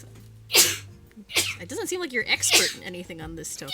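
One sharp, loud sneeze near the start from someone in a room, followed by a person talking.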